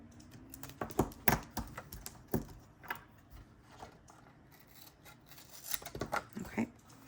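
Scissors snip through washi tape over a crafting table in a string of quiet, close, crisp clicks and cuts, some sharp and some soft, with no talk.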